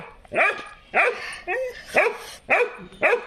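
Dogs bark in repeated loud, close bursts about every half second, with a short whimpering yip in the middle of the series.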